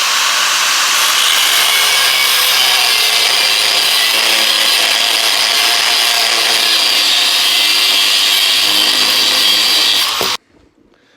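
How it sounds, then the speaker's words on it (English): Angle grinder fitted with a cutoff wheel slicing through a hard steel rear axle from a Honda 250EX ATV, a loud continuous abrasive whine held steady for about ten seconds before cutting off abruptly. "I'm going to have to cut it with an angle grinder"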